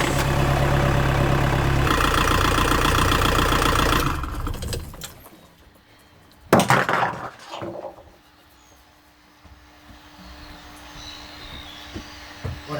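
A boat engine with a freshly repaired clutch assembly runs loud and steady under a rattling drone for about four seconds, then drops away, followed by a sharp burst and low rumbling idle that fades into quiet background.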